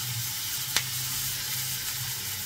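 Onion and green chilies sauté with a steady, fairly loud sizzle in a pan while adai dosai is prepared, with one brief sharp clink near the start and no talking.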